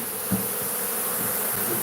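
Bees buzzing steadily inside a hive that is being vented through ducts, a close, continuous insect drone holding level throughout.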